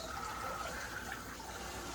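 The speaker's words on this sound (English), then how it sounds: "You do want a fairly good strong stream so that it's hitting the mesh on these guys." A strong stream of tap water rinses the mesh filter of a reusable Keurig K-cup, making a steady, even rushing hiss with no talking.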